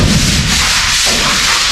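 A wall in a Kenyan house under construction is being sanded with sandpaper, a continuous loud abrasive rasping that runs steadily through the short stretch with no pauses.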